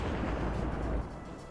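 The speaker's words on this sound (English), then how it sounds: "That's because we have a T-34 now firing from afar." A T-34 tank cannon fires from afar in a Battle of Kursk multiplayer battle game, a low rumbling boom that rolls out and fades, heavy and distant with no voices over it.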